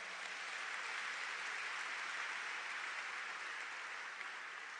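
Congregation in a church applauds together, a sustained, even wash of many hands clapping that holds steady throughout at moderate distance.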